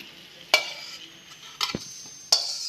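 Unpeeled garlic cloves frying in oil in a home kitchen pan while sambar powder is made, heard as a faint steady sizzle broken by three sharp scraping stirs of a utensil against the pan.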